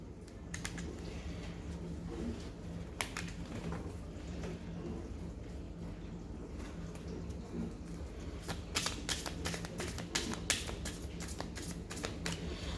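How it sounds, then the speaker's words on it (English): A deck of cards is shuffled in short riffling bursts, crisp clicks clustering near the end over a quiet room hum. "one more shuffle and then I'm clearing the deck"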